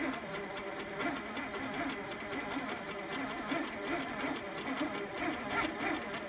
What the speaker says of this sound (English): the stand-up long arm, I'm quilting the number 9 over and over